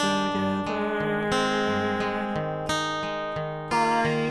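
A strummed guitar plays bright, ringing chords in a steady rhythm, with each new strum cutting in sharply over the sustained notes.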